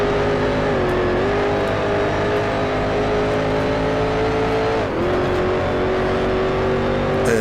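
Race cars in Grand Prix Legends, a steady loud engine drone held near constant pitch with a brief dip and rise as the car shifts and pushes past two others before a corner, no talking.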